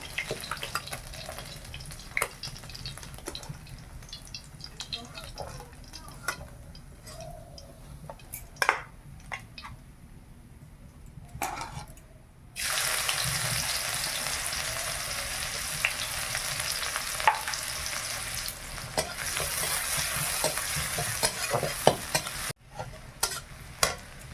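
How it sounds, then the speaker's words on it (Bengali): Onions frying in a pan in a village kitchen, stirred with scraping and light ticks at first, then a louder continuous sizzle takes over for the rest, steady and close with no talking. "পেঁয়াজটা ভাজা হয়ে গেছে"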